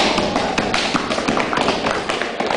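A voice performer imitates children running loudly up stairs with rapid, irregular tapping and thudding, a steady clatter of close footfall-like knocks lasting a few seconds.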